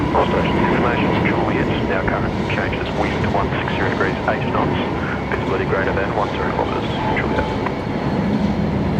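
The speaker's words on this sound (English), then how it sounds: "Those Neos are so quiet compared to the classics." An Airbus Neo airliner passes at Brisbane Airport as a steady, moderate jet roar with broad rumble, heard continuously under nearby voices and outdoor background noise.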